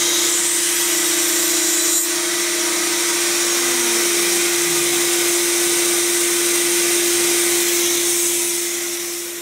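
A power tool cuts dovetails in wooden workpieces held in a DJ-12 half-blind dovetail jig, giving a steady, loud, continuous high whine that barely changes before tapering slightly at the end.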